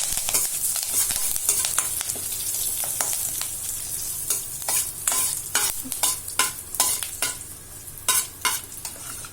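Green chilli, ginger-garlic paste and curry leaves fry in a pan, a continuous bright sizzle punctuated by repeated sharp scraping stirs that grow more frequent toward the end, with no talking.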